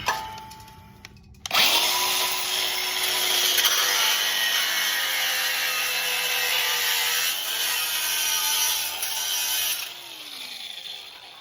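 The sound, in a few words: cutting off metal part during LS swap engine work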